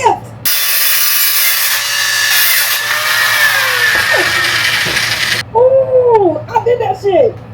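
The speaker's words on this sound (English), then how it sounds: "I'm gonna cut a couple more slices before I get the 2x4s." A power saw cutting slices of wood, a loud sustained buzzing cut for about five seconds that then stops, followed by excited voices talking close by.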